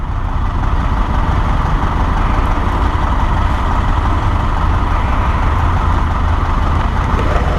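Steady, loud engine drone of a 2020 Honda Africa Twin motorcycle while riding, a continuous low rumble mixed with broadband wind noise that stays even throughout with no pauses.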